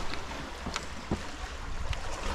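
Sea water sloshes and splashes at the mouth of Sawney Bean's Cave on the Scottish coast, a broad rushing wash with a few sharp slaps, heard close under gusty wind buffeting the microphone.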